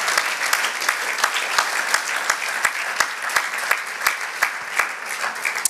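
A church congregation applauding at a Spanish-language worship service, a dense steady wash of many hands with sharp claps standing out at a brisk beat, close and loud throughout.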